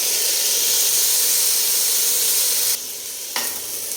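Spices sizzle loudly in a pan for vegetable khichuri, a constant frying hiss. When the vegetables go in, the sound drops abruptly to a softer sizzle, then comes a brief burst of hissing and quieter frying.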